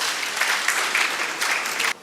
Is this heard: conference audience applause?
yes